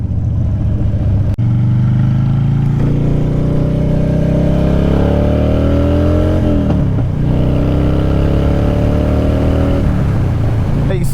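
A 2007 Harley-Davidson Dyna Super Glide Custom FXDC V-twin pulls away from close by, its engine note climbing steadily through the gears in long rising sweeps, with a brief dip between them.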